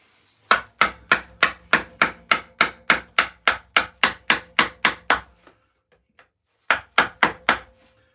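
A chisel is struck to dig a groove in wood for carving: a steady run of about seventeen sharp, evenly spaced knocks, a short pause, then four more quick blows, close and loud.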